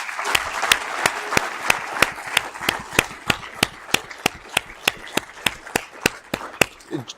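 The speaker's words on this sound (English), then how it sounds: "can everyone give a huge round of applause to all the people who pitched today?" An audience at a startup pitch competition at a clean energy conference applauds the pitchers. Loud, crisp claps ring out in a near-regular rhythm, with an even patter of clapping between them.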